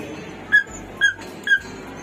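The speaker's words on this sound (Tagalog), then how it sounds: "Yung aso ko maingay." A dog on a rooftop garden gives three short, high whimpering yips spaced about half a second apart, close and fairly loud over a quiet background.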